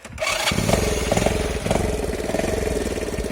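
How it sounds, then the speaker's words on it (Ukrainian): An MT Kozachok tractor engine turns over and fires up in a forest, then runs in a steady, throbbing chug close by, with no talking. "я вже на тракторі будемо їхати"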